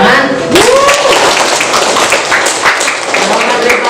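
Dense audience applause for ranked students fills the whole stretch, loud and steady, with a voice cutting through briefly near the start.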